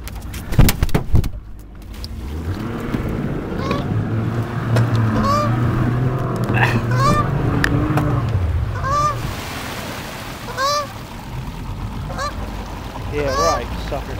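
A goose honks repeatedly in loud, harsh bursts, close by, with a continuous vehicle or engine rumble underneath and brief handling noises at the start.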